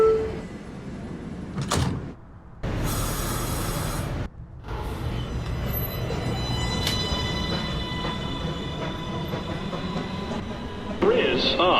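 A New York City 2 train pulls out of the 2 Av subway station at night, doors thudding shut before a loud rush of cars and rolling wheels, with an announcement voice heard early.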